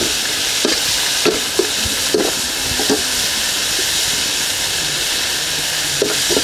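Beef for lomo saltado, seasoned with ground cumin and pepper, browns in a pan with a constant close hissing sizzle and occasional soft stirring knocks, no voices.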